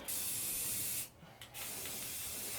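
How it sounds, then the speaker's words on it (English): Spray paint hisses steadily onto the welds of a bus floor, a broad continuous spray that pauses briefly midway before resuming at the same close, even level. "Next I'm going to spray paint them to get them all sealed in"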